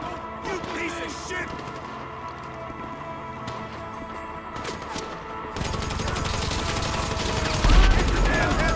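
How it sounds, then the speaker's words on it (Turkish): GTA 5 video game chaos at a military base as a tank rampages through soldiers: scattered gunfire, crashes and impacts, getting denser and louder toward the end. "Tank içimizden geçti."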